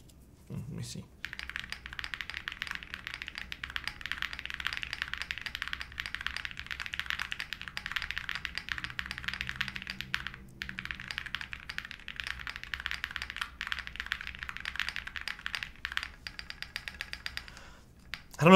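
Typing on a Trio-65 mechanical keyboard, a close, steady stream of soft clacky keystrokes with brief pauses and occasional heavier space bar hits, with no talking over it.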